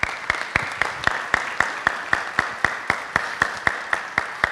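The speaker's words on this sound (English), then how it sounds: "if you guys can give another round of applause to these young people that are here" Applause for young people at a city transit trust meeting, heard as a small group clapping in a steady, fairly even rhythm of sharp distinct claps, close and moderately loud.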